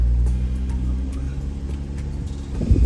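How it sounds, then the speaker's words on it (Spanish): Jeep Gladiator Mojave pickup driving, a steady low engine and road rumble heard from inside the cab, with a brief louder thump near the end. "vamos a manejar qué tal este carrito, a ver qué tal maneja el Mojave"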